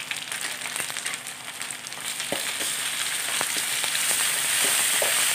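Onion, garlic, green chili and ginger-tamarind paste frying in a pan, a continuous close sizzle that grows louder, with a few scraping stirs.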